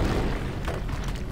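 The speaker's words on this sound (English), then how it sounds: "It literally sounds like this cave is falling apart." Low rumbling boom from a cave that seems to be collapsing in the Knights of the Old Republic video game, a brief, continuous, moderately loud deep roar with no voices.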